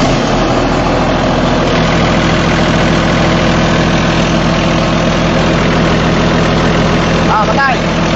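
Caterpillar 320CU excavator engine idling with a steady, loud low rumble and vibration throughout, under faint voices.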